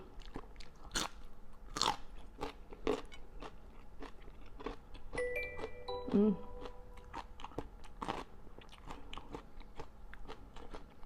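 Repeated crisp crunching bites and chewing of salted Vietnamese jellyfish, sharp crackly snaps spaced irregularly, close up and fairly quiet.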